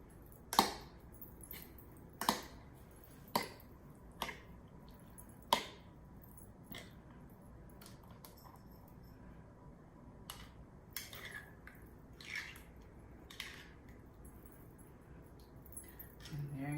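Homemade red roasted salsa with fresh cilantro and onions being mixed in a stone molcajete: a string of sharp clicking knocks and soft wet taps, loud at first, then fainter and scattered, over quiet room tone.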